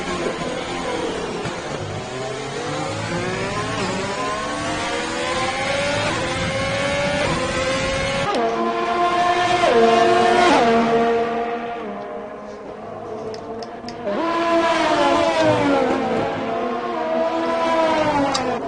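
F1 2020 cars race down a straight at the Bahrain Grand Prix in the video game, engines whining with overlapping rising pitches that climb repeatedly as each car shifts up, loud and continuous.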